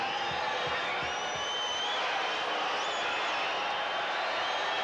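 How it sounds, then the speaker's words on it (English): A large basketball crowd at Madison Square Garden roars at Cartwright during a Knicks–Bucks game, a steady, dense wash of cheers and whoops that stays loud and even throughout. "So Cartwright getting the treatment from the crowd."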